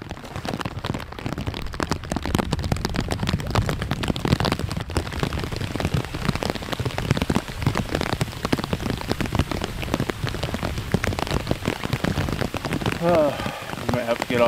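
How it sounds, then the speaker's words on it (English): Heavy rain pours steadily during a storm over a lake in the boreal wilderness of Wabakimi, a dense, unbroken patter close by that lasts throughout with no clear voices. "Starting to get a bit stormy though."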